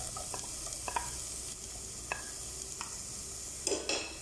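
A spoon works chopped carrot and green chili through an oats mixture in a pan, producing soft scattered scrapes and taps over a faint, steady sizzle, with a slightly louder clatter near the end.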